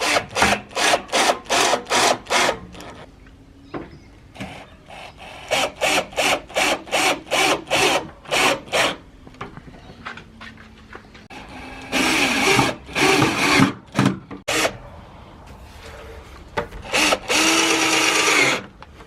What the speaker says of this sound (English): Using the pre-drilled holes, hold it together, put the screw in, simply screw it in.